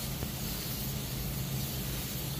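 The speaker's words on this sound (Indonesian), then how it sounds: "di lapis kedua ini coba kita semprot dengan jarak yang lebih dekat tapi gerakannya itu lebih cepat." Diton Premium aerosol spray paint hisses out of the can in one continuous, close, steady spray with no pauses.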